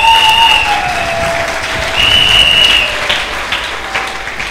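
A church congregation claps loudly and steadily, with some scattered cheers and raised voices mixed in, a dense sustained roar of applause up close for a few seconds.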